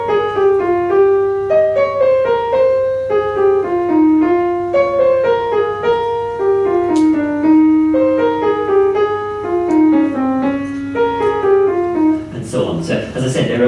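A piano plays right-hand semiquaver runs slowly and deliberately, single notes stepping up and down in even succession, close and clear, ending with a brief noisy rustle.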